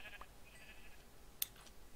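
Sheep bleat in a Minecraft hardcore survival game, faint short bleats near the start and middle and a sharp click around one and a half seconds, with quiet background hiss.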